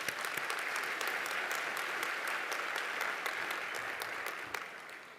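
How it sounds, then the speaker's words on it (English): Audience applause fills a university graduation ceremony at Nelson Mandela University's Gqeberha campus, a steady, dense wash of clapping from a large crowd that holds level and begins to thin toward the end. "I think you should give yourselves a round of applause for that."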